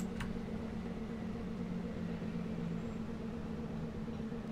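A Class 442 train's compressor runs in Train Simulator 2016, giving a steady droning hum over a broad rushing noise, unbroken and even for the whole stretch, with a single brief tick near the start and no talk.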